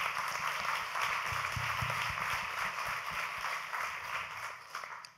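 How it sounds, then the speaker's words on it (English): Audience applause at a panel discussion on early intervention in adolescent violence in the home, a steady wash of many hands clapping that holds at even strength before tapering off near the end. "Can you just give her a round of applause"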